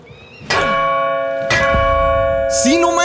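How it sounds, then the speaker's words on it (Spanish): A church bell in Far Cry New Dawn struck three times in quick succession, each loud clang swelling the sustained ringing, with a brief excited voice breaking in near the end. "¡Pegarle a la campana es la señal!"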